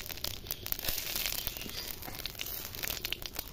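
Radhuni and cumin seeds crackle and sizzle in hot oil left from frying tengra fish, a dense, steady frying hiss with scattered sharp pops running throughout at close range.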